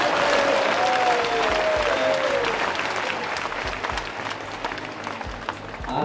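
A seated audience at a Jain spiritual discourse claps in a thick, sustained burst that gradually thins. A faint tonal sound drifts through early on and a few low thumps punctuate the clapping.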